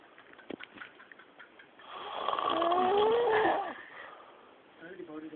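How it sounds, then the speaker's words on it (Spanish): A person snores loudly, one long rasping snore swelling and fading in the middle, with faint voices and small noises around it. "¿Viste cómo ronca?"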